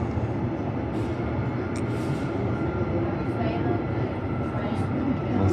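Ellenbrook Line six-car express train running, a steady loud rumble and rolling roar heard from inside the carriage, continuous throughout with faint higher squeals.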